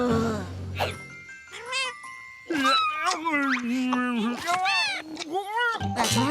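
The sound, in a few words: cartoon kittens meowing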